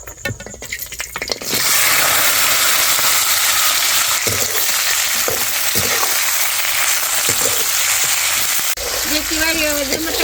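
Onions, tomatoes, cashews, garlic, ginger and coriander sauté in hot oil in a pan for a pumpkin dish, a loud steady sizzle that starts after a brief quieter moment and carries on with occasional stirring clicks.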